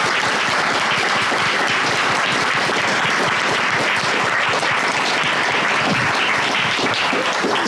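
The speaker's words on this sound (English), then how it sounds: "Can we give her a huge round of applause?" Live podcast audience breaking into applause, a loud, dense and continuous roar of clapping from a sizeable crowd that stays even and full from start to finish.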